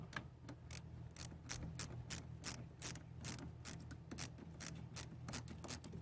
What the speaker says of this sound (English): This end has a ratchet.